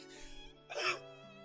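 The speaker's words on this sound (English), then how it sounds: "My throat sticks shut halfway through my attempt at a laugh, and I'm set into a coughing fit." Coughing fit from a visual novel video game, heard as a rough throaty hack with a burst of breathy coughs over a steady tonal hum of background music.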